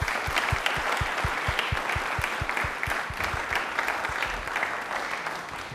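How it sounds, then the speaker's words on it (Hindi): An audience applauds loudly and steadily for a guest on a Doordarshan quiz show, dense clapping running throughout with a few sharper claps standing out. "एक बार जोरदार ताली हो जाए दीपेन के लिए प्लीज"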